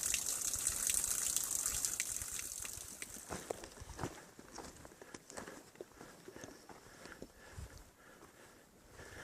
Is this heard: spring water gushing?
yes